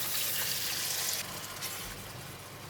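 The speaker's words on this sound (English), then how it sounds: "Add in some more water." Water poured into a pan of biryani rice mixture with turmeric during cooking, a soft hissing splash that runs briefly then eases into a quieter sizzle and trickle.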